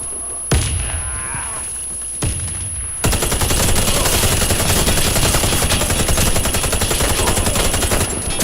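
Video game gunfire: two isolated shots, then a long, loud burst of rapid automatic fire that continues without pause.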